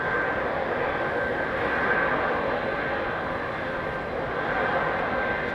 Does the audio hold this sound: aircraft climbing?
yes